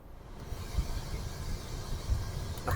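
A car air conditioner fan blows a steady, airy whoosh close by, with a few faint mechanical clicks and thumps underneath.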